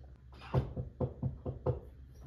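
Several evenly spaced knocks land on a door at night, four or five dull thuds in a steady rhythm, moderately close against a faint background hum.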